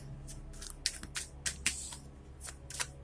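A deck of cards is shuffled up close in a series of quick, crisp riffling bursts spread over about three seconds, with a faint hum underneath.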